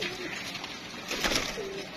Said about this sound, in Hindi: इधर गया कबूतर भी पीछे गया इस साथ।